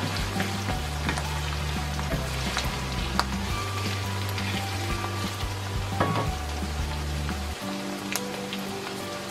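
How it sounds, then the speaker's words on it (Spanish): Rice frying in hot oil with onion and chile gives a constant dense sizzle and crackle, like heavy rain, with occasional stirring scrapes and no talk. "ven como estoy hirviendo en el aceite"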